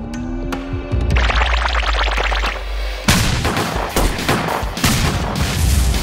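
A candy-loaded toy gun fires sweets in rapid bursts of sharp cracks, first a quick rattle of shots, then a louder, heavier volley of booming hits near the end.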